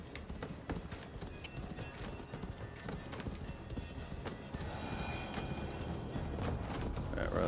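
In Assassin's Creed Valhalla, a horse's hooves clip-clop steadily and briskly, up close and loud, as it moves over the ground in the game, with no voices over them.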